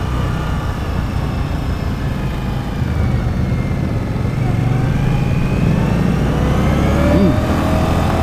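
Victory Octane motorcycle accelerating through traffic in Arizona, its engine droning steadily near and loud, rising slightly in pitch late in the ride.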